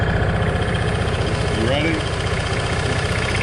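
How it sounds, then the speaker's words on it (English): A 2006 Club Car golf cart engine idles steadily with a low rhythmic putter, close and loud, while a person talks briefly over it. "I think we got a running golf cart."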